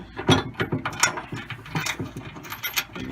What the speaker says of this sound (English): Tightening it down.